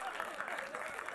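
Faint, distant audience applause at a film trailer launch event, a soft continuous wash of clapping with possible murmured crowd noise underneath, no distinct voices standing out.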